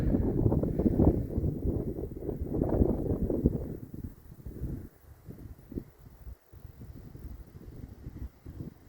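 Wind gusts across open farmland in the UK, a loud rumbling buffet that batters the microphone at first, then eases into softer, intermittent gusts with brief lulls.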